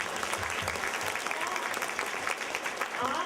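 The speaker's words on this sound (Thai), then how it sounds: "ขอเสียงปรบมือนะคะ" Audience at a children's picture-book workshop applauding after a talk, steady moderate clapping from a roomful of people, fairly even and continuous for a few seconds.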